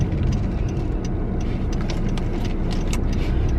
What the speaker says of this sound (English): there's someone driving up